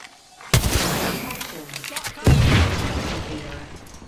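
Gunfire aimed at a cargo bot in the video game Apex Legends: two loud, booming bursts a couple of seconds apart, each trailing into rumbling noise, with voices talking around them.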